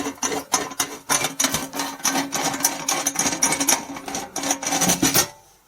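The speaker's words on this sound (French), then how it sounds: "J'enlève la clé en dévissant comme ça." A steel mandrel is being unscrewed from a rivet nut setting tool, giving a continuous close-up scraping, ratcheting rasp with irregular clicks that stops abruptly just before the end.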